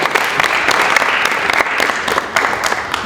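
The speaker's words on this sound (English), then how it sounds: "let's get another round of applause for our coaches, guys" Loud audience applause for a group of women's basketball coaches at a youth basketball event, a dense burst of many hands clapping close by, steady from start to finish.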